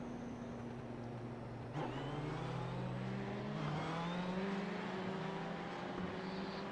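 A GTE race car pulling out of the pits at Monza in iRacing, the engine revving up through rising gear pitches, moderately faint over a steady background.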